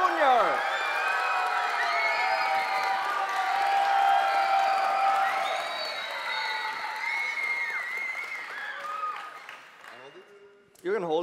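A crowd at an esports event cheers and applauds as a player is introduced, a loud sustained wash of clapping with whoops and shouts that slowly fades, a voice briefly speaking at the end.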